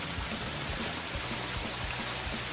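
Waterfall in Mesolouri, Grevena pours into a rock pool below, a steady broadband rush and splash, continuous and fairly close with no voices.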